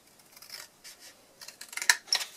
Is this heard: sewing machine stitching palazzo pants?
no